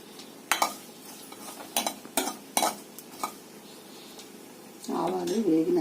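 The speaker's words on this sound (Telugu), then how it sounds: "ఆవాలు చిట్పట్లాడంగానే కొంచెం ఈ పప్పులన్నీ వేసుకుందాము" Mustard seeds, urad dal and chana dal frying in hot oil as a tempering for tomato pappu, heard as crackly bursts and clinking spoon strokes against the pan, followed briefly by a voice near the end.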